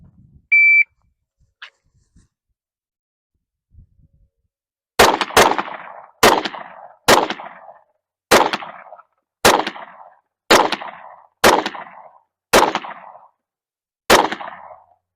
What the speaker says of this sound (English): We're going to do the Eli drill. 10 shots, under 15 seconds, 40 yards.